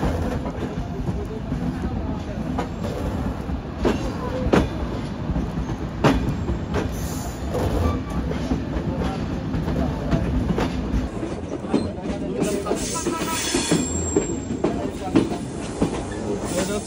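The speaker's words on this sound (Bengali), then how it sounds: "আর এই যে আমাদের ট্রেন চলে যাচ্ছে বাম দিক দিয়ে" The Rupsha Bangla Express rumbles past nearby on the tracks near Jessore, Bangladesh, with rhythmic clickety-clack of wheels over rail joints, loud and continuous, with faint voices in the background.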